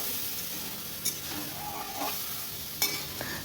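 Hilsa fish curry with eggplant and green chillies sizzles steadily in a pan, with a few sharp scrapes and clinks from stirring breaking through the constant frying hiss.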